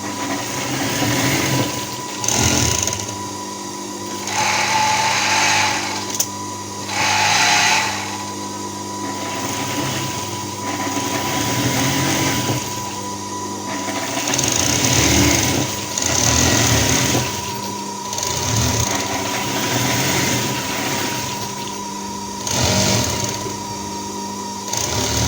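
Sewing machine stitching fabric at a school activity session, with a loud close motor whir in repeated runs of a few seconds each, separated by brief pauses.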